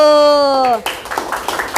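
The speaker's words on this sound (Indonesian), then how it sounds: "tepuk tangan dulu" Students clap together in a classroom during a lesson, a short burst of loud, irregular clapping right after a teacher's sustained spoken word.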